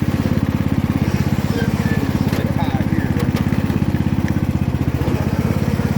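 A small John Deere riding lawn mower engine drones steadily at close range, with a fast even chugging throughout; a person briefly speaks over it.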